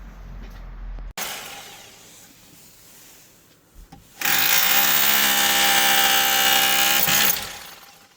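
A power drill bores holes for mounting an electric roller shutter, with a loud whining burst early on and a second, longer steady drilling run later, separated by quieter handling noise.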